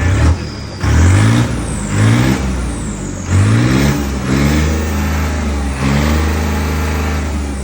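A modified tractor's engine is revved to full throttle several times in a row, each loud rev climbing sharply in pitch and then falling back to a deep idle, close and alone with no talking.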